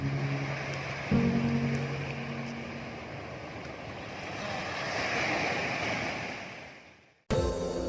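Surf rolling onto Pasir Panjang beach in Malang, a broad continuous wash of waves with wind buffeting the microphone and a brief louder thump near the start before a sudden cut.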